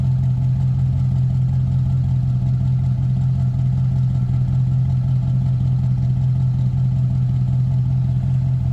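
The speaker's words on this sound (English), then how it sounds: "Nice deep throaty exhaust note." A 2005 Pontiac GTO sits idling, its deep, throaty exhaust note holding a steady low rumble that stays loud and close the whole time, with no talk over it.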